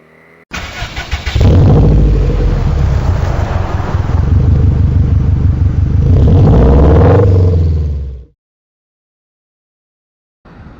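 A 2018 BMW R nineT motorcycle engine revs hard and loud from close range, holding a rough roaring drone for several seconds before cutting off abruptly into near silence.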